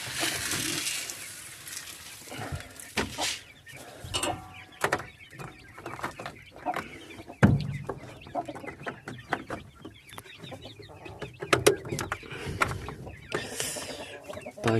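Chicks and chickens cluck and peep all around at close range on straw bedding, with scattered rustling and occasional louder squawks over a busy coop background.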